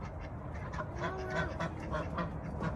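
Ducks being moved from their nesting boxes out to a pond quack a few times over steady background noise, moderately close and not loud.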